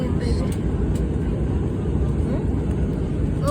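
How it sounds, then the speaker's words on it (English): Airliner engines running up during an engine run test at Antalya, Turkey, a steady loud low roar heard from nearby that holds throughout, with faint voices in the background. "Engine, run your engine."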